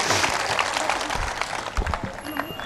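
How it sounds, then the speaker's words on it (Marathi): A crowd at an outdoor political rally in Bhose, Madha, for the 2024 assembly election breaks into brief, dense applause, the clapping close and fairly loud with a voice talking over it. "सगळ्यांनी टाळ्या वाजवायच्यात अशी विनंती करते मी आपणास"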